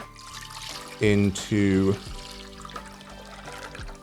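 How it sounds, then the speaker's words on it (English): Water poured from a kettle into a pan on a stove turned to high, two loud gurgling bursts about a second apart, then a quieter trickle, with a voice speaking briefly over it. "pour the water"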